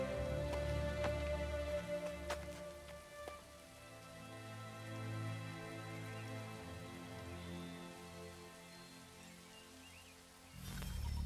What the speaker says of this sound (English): It conveniently starts raining.